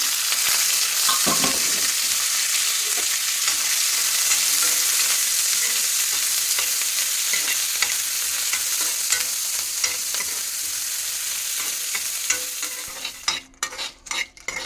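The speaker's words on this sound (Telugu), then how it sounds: "ఎండుమిరపకాయలు అయితే వేగినాయి. ఇప్పుడైతే కొబ్బరి ముక్కలు, కొత్తిమీర కూడా వేసేసుకుంటున్నాను." Dry red chillies frying with coconut pieces and coriander in a pan, a loud, steady crackling sizzle with stirring scrapes, running unbroken for most of the clip before breaking into sparse clatters at the end.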